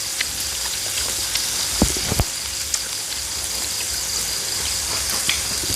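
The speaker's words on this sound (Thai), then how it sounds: "ก็เดือดครับเพิ่น" Pork broth in a moo kata grill pan bubbles and sizzles steadily up close, a dense hissing boil with occasional small pops and no voices.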